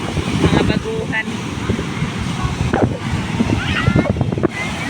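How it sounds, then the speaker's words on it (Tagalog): Big ocean surf at Siargao with surfers out in it rumbles and crashes continuously under gusty wind noise, while people talk nearby throughout. "Grabe ang alon, no? May nag-surfing."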